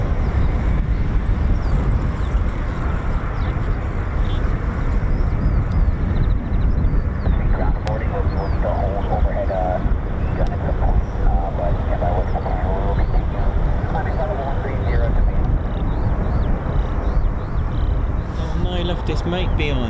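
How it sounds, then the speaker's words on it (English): An F-35 fighter jet flies near an air base, its broad, loud roar rumbling continuously throughout, with people talking over it. "F-35, I think, behind me."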